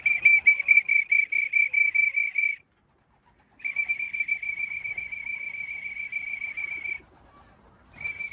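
A shrill whistle blown in rapid repeated bursts to call racing pigeons home, loud and close, in three runs separated by short pauses.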